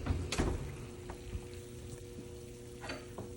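Spicy-sweet almonds sizzle on a hot roasting pan fresh from the oven while being stirred, giving a soft crackling hiss with a few sharp scraping clatters near the start, close and fairly quiet with no talk.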